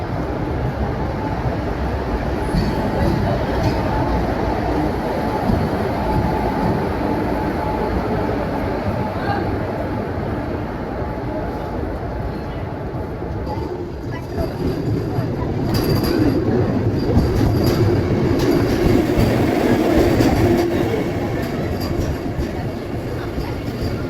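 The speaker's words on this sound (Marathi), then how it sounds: "वंदे भारत ट्रेनने." A Vande Bharat Express train running between Chhatrapati Sambhajinagar and Kalyan, heard from inside: a steady loud rumbling roar of the carriage with faint rail clatter, brief squeals and some nearby voices underneath.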